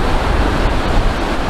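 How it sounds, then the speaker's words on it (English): Ocean waves wash up on a sandy beach at Myrtle Beach, a loud, dense, continuous roar of surf with some wind rumble against the microphone and no talking. "Water is coming up"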